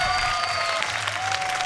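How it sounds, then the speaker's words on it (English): Rodeo crowd at the IGRA Rodeo applauding and cheering in a large arena, a dense wash of clapping with a tonal whine running through it and faint voices underneath. "you hear the crowd really appreciating that effort"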